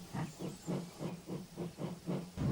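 A steam locomotive chuffs along in a steady rhythm of about nine evenly spaced puffs, each with a soft hiss of steam, moderately loud and close with no voices.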